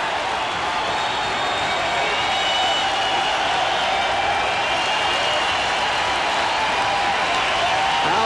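A Fenway-style baseball stadium crowd at a Red Sox game cheering and applauding, a continuous broad wash of clapping and crowd noise heard from a distance, steady throughout.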